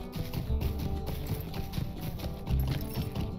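Horse hooves gallop in the Lord of the Rings video game, with a rapid, steady clip-clop rhythm close by and continuous, layered over game background noise.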